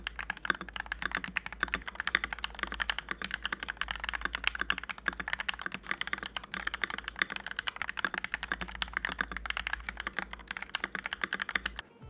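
Stock Gateron Pro Milky Yellow switches on an MK870 mechanical keyboard clack under steady, fast typing, a dense run of close, crisp keystrokes with no voices.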